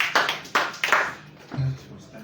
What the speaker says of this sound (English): when we put our hands together